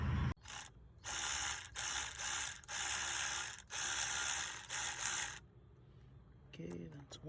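A Shield Pro cordless ratchet buzzes in several short bursts while undoing bolts, each a second or so long with brief pauses between, followed by quieter handling sounds.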